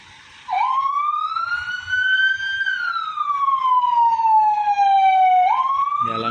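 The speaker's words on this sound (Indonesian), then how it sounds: "Ya ini ambulan 1 sudah mau pergi juga." An ambulance siren wails loudly and close as the ambulance departs, one long rising and falling tone that holds for several seconds, with a faint engine rumble underneath.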